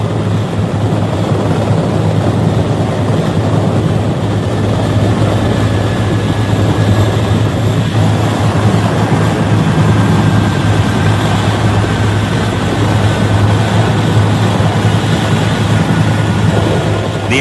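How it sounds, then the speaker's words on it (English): A steady, loud rotor drone of U.S. 7th Fleet naval helicopters airlifting evacuees from the Saigon embassy in 1975, continuous throughout with a low throbbing hum and broad engine noise, no voices. "a constant shuttle of naval helicopters from the American 7th Fleet airlifted out of that embassy"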